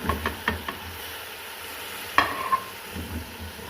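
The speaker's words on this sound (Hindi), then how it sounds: "अब हम इसमें चिकन शामिल करेंगे" Raw chicken is added to a pan and stir-fried for aloo chicken, giving a few scraping stirs and a soft sizzle, with a sharper clatter midway, close and moderately loud with no talk.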